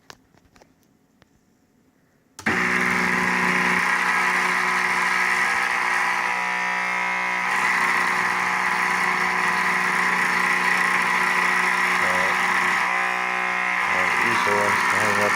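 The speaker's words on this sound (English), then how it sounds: "there's also some noise from the motor" A small electric motor drives an automated winding tool for Tesla coil secondaries. It starts suddenly after a short quiet lead-in, then runs as a loud, steady hum with a fairly even tone throughout.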